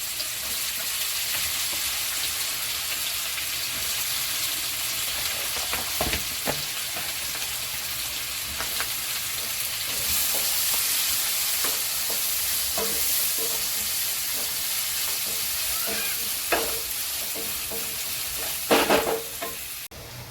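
Chopped onions, four of them, hiss and sizzle in hot oil with whole spices, a steady close frying crackle under occasional stirring scrapes, building slightly louder midway with a few sharper clinks near the end.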